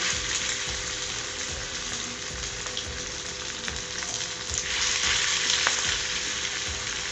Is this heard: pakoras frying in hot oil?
yes